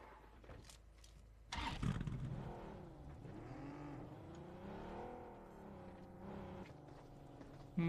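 Car engine in the mobile battle royale game BGMI, a steady revving drone with shifting pitch as the vehicle drives, fairly loud and close with no talk over it.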